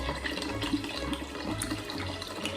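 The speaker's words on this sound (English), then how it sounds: "And then I'm going to finish it off with the ginger beer." Ginger beer is poured into a pumpkin spice sangria, a short, steady, close splashing pour of liquid heard on its own.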